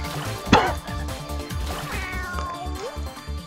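A person imitates a cat, giving a few drawn-out meows over steady rhythmic background game music from Putty Squad on PS4.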